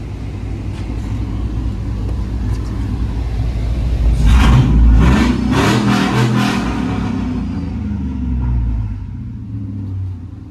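An LS-swapped OBS Ford truck with a Carven exhaust revs loudly nearby, a deep rumbling idle surging into a strong burst of throttle at mid-clip before settling back to a steady, heavy burble.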